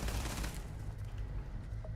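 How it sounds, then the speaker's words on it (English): Gunfire in the video game Starfield, a dense rumbling burst of rapid shots and booms that stays loud throughout, no voices. "What are you shooting at, dude?"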